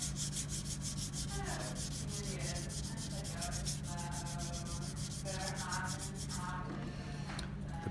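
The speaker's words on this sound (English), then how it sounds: "The paint clogs up the sandpaper fairly quickly when you use very fine paper" Steady rhythmic rasping of fine sandpaper rubbing over a painted surface, close and continuous with regular back-and-forth strokes.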